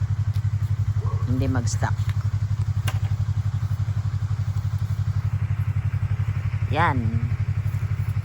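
A motorcycle engine runs steadily close by, a low, even, pulsing drone that lasts throughout while people talk over it.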